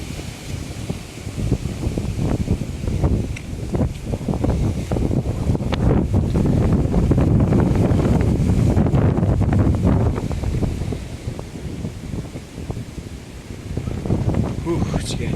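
Strong gusty wind roars and buffets the microphone outdoors during a January high wind advisory in Kalamazoo County, Michigan, surging louder in the middle and easing toward the end.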